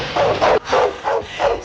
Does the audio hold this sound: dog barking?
yes